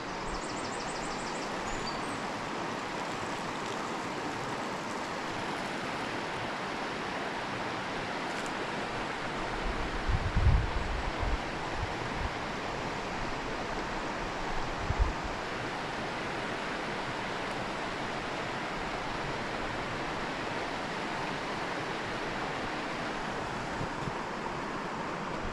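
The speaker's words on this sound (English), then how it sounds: "I'm pointing my camera to the bit of a weir there, the rapids" Water rushes steadily over a weir and through rapids, a continuous full-band roar with a couple of soft low thumps partway through and no voices.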